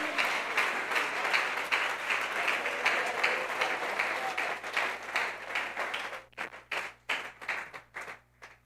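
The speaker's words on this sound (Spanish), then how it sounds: "Aplauda con fe." A church congregation claps together during a sermon, a dense steady roar of applause that thins after about six seconds into a few scattered, separate claps before dying out.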